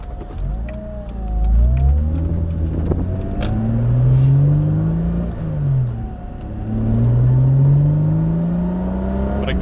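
A Honda V6 engine in a Mazda Miata revs repeatedly, its pitch climbing and falling in long sweeps, loud and close with a throaty growl.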